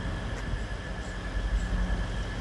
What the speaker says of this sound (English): And the trains stop out here.